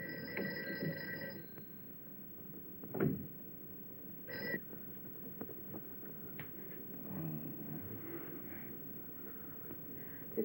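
An old telephone rings unanswered in a 1959 low-budget horror film, short faint trills at the start and again midway over a quiet room tone with soft scattered movement noises.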